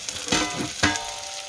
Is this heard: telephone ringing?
no